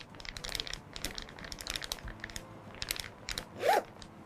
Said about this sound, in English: By placing this clear plastic bag over the stem